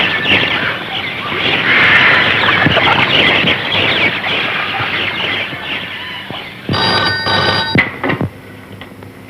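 A telephone rings during a scene from an old Hindi thriller-horror film, a short bright ring near the end that cuts through a loud, busy background.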